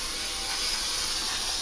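A continuous hiss as baking spray with flour is sprayed from a can into a Bundt pan, steady and close for under two seconds.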